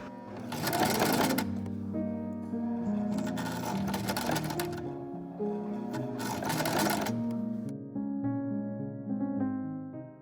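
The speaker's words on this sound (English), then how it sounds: "you either use this sort of mountain peak stitch on your sewing machine" A sewing machine stitches a folded fabric edge for a homemade prom dress, with rapid mechanical bursts of stitching that start and stop several times and a lingering hum between them, heard close without any talk.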